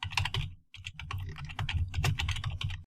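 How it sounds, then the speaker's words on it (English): Rapid keystrokes on a computer keyboard, a dense run of close clicks with a brief pause early on, no voices. "So let's type alert hello"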